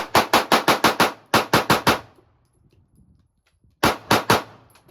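Handgun fire from a Springfield Armory Hellcat or Sig Sauer P365: a rapid string of six loud close shots, then a quick burst of four, a quiet pause, and three more sharp reports near the end.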